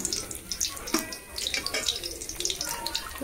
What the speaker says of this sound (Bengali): এইভাবে এক এক করে সব চিংড়ি মাছের স্প্রিং রোল আমি ভেজে নেব।